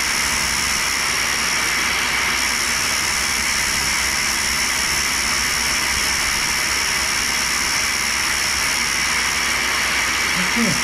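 A 6-inch, 100-grit diamond wheel saws through a damaged carbide endmill, giving a steady, loud high-pitched whine and hiss that holds unbroken and close throughout, with no talk over it.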